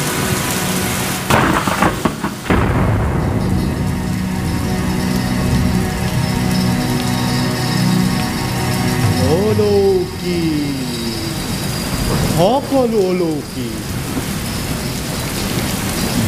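Thunderstorm and rain sound effect from an Assamese stage drama about Krishna: steady, dense rain with rolling rumbles of thunder throughout, and a voice speaking briefly over the storm.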